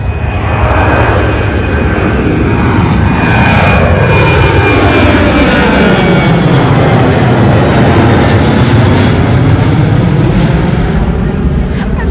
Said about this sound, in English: we got an airplane coming right now